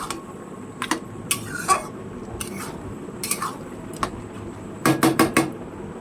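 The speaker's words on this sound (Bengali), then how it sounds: "এবার ভালো করে নাড়াচাড়া দিতে হবে" A utensil stirs gourd and fish head curry in a pan, making scattered light clinks and scrapes, ending in a quick cluster of four taps over a low cooking hiss.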